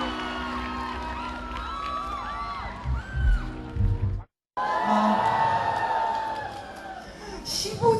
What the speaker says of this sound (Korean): 시간이 갈수록 더해가는 관객들의 열렬한 환호